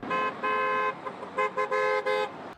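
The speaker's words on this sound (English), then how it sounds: "While drivers honk in passing" Passing cars honking nearby, two long blasts followed by a series of short beeps in quick succession.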